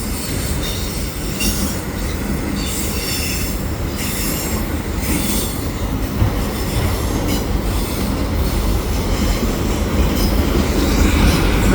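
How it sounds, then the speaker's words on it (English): A CN freight train hauled by five locomotives rolls westbound through a curve at Atwater, wheels squealing loudly and continuously over a steady rumble as the cars pass close by. "And that's the end of the train right there"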